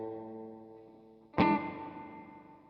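Tile-chamber reverb from a Cuvave 9 Type Reverb pedal: a sustained tone fades, then one sharp loud attack blooms into a bright, splashy wash of echoes that snaps back and decays over about a second, alone with no voices.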